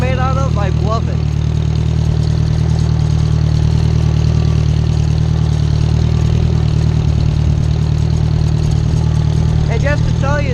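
A farm tractor without power steering drives along with its engine droning loud, steady and close throughout. Someone talks over the running engine.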